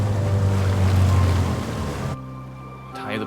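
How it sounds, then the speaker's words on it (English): Small boat motoring toward a beach on Breiðafjörður, a loud continuous engine drone with rushing water and wind that cuts off abruptly, leaving a quieter tail. "We take a little boat to the beach,"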